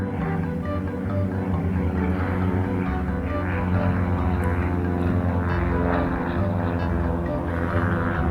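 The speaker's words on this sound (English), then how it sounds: "More airplanes." A propeller airplane drones steadily overhead, a loud continuous engine hum that stays constant throughout.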